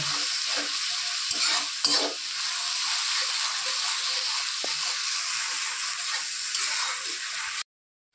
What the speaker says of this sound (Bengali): একটু হলুদ পরিমাণ মতো, আর পরিমাণ মতো লবণ দিয়ে ভালো করে মশলাটা আমি কষিয়ে নেব।